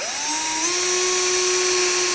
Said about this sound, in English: now we're going to take our drill, and all we want to do is just put a little divot in there